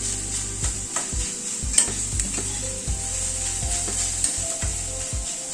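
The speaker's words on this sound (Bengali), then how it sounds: "দিয়ে এবার এটাকে পেঁয়াজ, আদা, কাঁচা লঙ্কার সাথে একটু ভেজে নেব।" Shredded chicken frying in a pan with onion, ginger and green chili, a steady sizzle broken by repeated scraping stir strokes, close and fairly loud with no talk.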